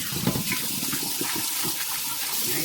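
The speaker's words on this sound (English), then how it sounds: "First, I'm going to give this a nice rinse." A kitchen tap runs a steady, full stream of water over raw chicken being rinsed, a close continuous gush with faint splashing changes as the meat is turned under the flow.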